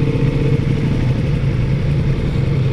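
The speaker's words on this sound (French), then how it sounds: "ce moteur V4 qui reprend très bas dans les tours." A Ducati Multistrada V4 S Grand Tour's V4 engine pulls at low revs while riding through town, a steady, close, mid-pitched motorcycle drone with a slight throb and no talking.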